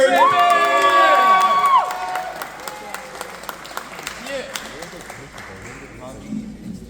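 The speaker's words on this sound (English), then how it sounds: "Keep cheering for the next comedian coming to the stage" A comedy club crowd cheers and applauds at a soft opening, loud at first with whoops, then thinning into scattered clapping and chatter as the next comedian takes the stage; a voice speaks over the start.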